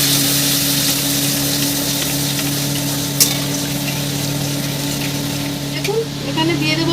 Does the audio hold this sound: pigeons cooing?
no